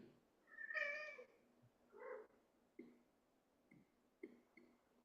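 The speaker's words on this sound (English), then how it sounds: "You might hear or see my cat." A cat meows clearly up close, followed by a few softer, shorter mews and chirps scattered across a quiet room.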